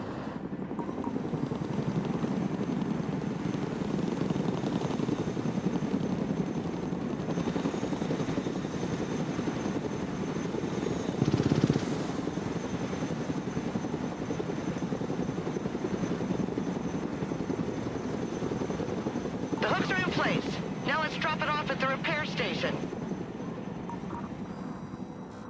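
A cargo helicopter in the video game Broken Arrow flies with a steady, loud rotor and turbine drone throughout, with a brief swell in the middle and a short burst of chatter-like radio noise near the end.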